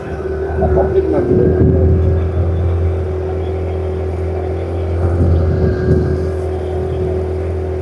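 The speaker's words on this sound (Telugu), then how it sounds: "పడవ ప్రయాణం" A launch boat motor on a pond drones steadily close by, a low humming engine that swells slightly at times, with faint voices underneath.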